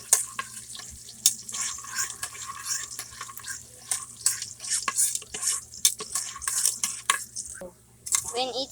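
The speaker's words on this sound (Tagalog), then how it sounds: "Let's mix it and don't let it burn. Just stir it continuously." Adobo fries in a pan while a utensil stirs it continuously, with close scraping and clinking strokes over a soft sizzle and a steady low hum; a voice speaks briefly in the background.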